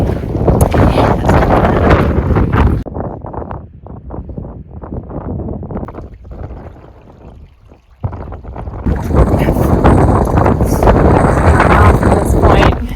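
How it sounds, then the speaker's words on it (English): Strong gusty wind outdoors in the Scottish hills buffets the microphone with loud, roaring rumble, easing and dropping midway before surging back to full force. "The wind has like picked up like crazy."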